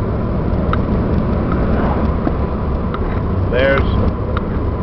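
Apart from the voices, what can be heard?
Ford Bronco II V6 driving with manual gear shifting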